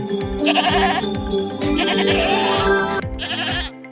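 A goat bleats loudly in long, wavering cries, repeated several times over rhythmic background music.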